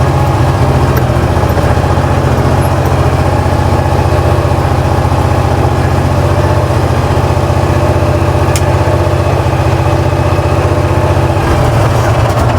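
A Mahindra XUV550 engine runs steadily and loudly as the SUV backs up a steep incline toward a house, a constant low rumble with no talk over it.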